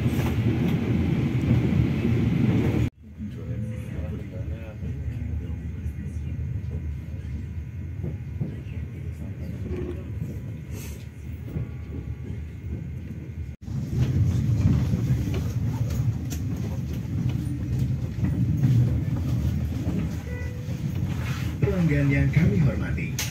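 A Lodaya passenger train travels from Kroya toward Bandung, its rumbling carriage noise steady inside the car, cutting to a quieter stretch and back, with people talking over it.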